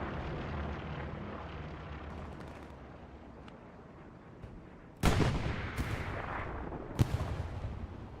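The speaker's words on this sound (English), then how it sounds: "Yeah, I think that is an AT gun." An anti-tank gun fires in the Hell Let Loose war game, a sudden loud blast with a sharp follow-up report and another crack a couple of seconds later, after a stretch of low rumbling battle ambience.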